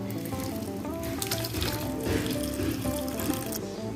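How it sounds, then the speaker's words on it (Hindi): A cottage cheese mixture is slowly poured onto muslin cloth over a bowl, giving a steady close trickle and splash of liquid with brief sharper splatters, continuous throughout. "मलमल के कपड़े के ऊपर हम ये अपना सारा मिक्सचर इस तरह डालेंगे आहिस्ता आहिस्ता करके।"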